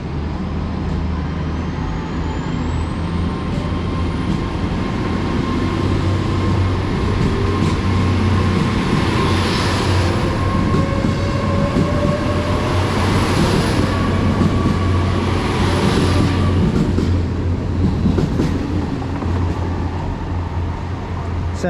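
A Great Western Railway passenger train pulls into a station platform, a continuous loud rumble of wheels and engine with rising and falling whines, brake squeals and a low steady drone, fairly near throughout, with a voice faintly underneath.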